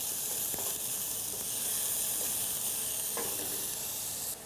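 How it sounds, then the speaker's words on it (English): Onion sautéing in oil in a pot for Czech mushroom cream soup, a bright continuous hissing sizzle held close and even, with a couple of light knocks, cutting slightly quieter at the very end. "Put the oil and then the onion, a little bit sauteed."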